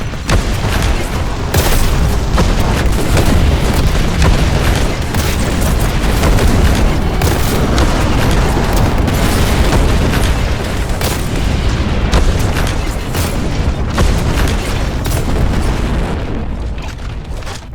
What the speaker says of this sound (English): The first one is just a rocket launcher.